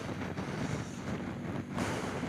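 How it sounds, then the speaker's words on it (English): Gusty wind blows outdoors at Greystones, a steady broadband rush buffeting the microphone with a stronger gust near the end; no voices. "It's especially windy here,"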